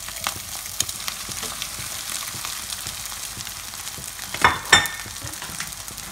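Rice and egg fry together in a pan, making a steady close crackling sizzle throughout, with a couple of louder bursts near the end as the rice is tossed or stirred. No one speaks.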